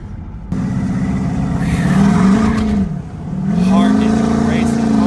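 A Duramax diesel pickup truck pulls hard under acceleration, its loud engine drone climbing in pitch as boost builds, dipping briefly at a shift and then rising again, with excited voices talking over it.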